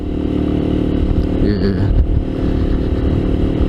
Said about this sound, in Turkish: 5800 liralık bir motora biniyorum.